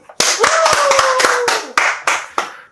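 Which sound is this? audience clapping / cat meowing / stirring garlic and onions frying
audience clapping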